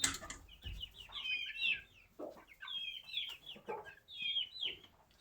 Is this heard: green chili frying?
no